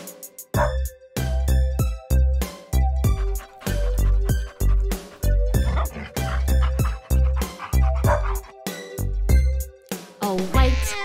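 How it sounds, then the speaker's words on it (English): A black dog barks loudly in a children's nursery rhyme song. Sharp, repeated barks fall in rhythm over bright, bouncy music and play loud and close throughout. "A black dog barks real loud."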